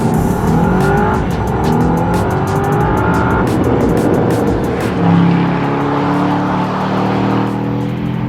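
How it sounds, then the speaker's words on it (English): An Aston Martin DBX SUV accelerates hard, its engine note rising and roaring steadily from inside the cabin, with a brief shift-like dip midway before the revs climb again. "every time you put your foot down in this, it just sounds like it is throwing petrol at the chamber"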